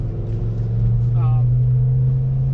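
A 2014–2018 Chevrolet Silverado or GMC Sierra pickup with a Corsa Sport exhaust drones steadily as it accelerates, a deep continuous hum heard from inside the cab with someone talking over it.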